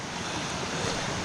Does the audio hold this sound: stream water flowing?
yes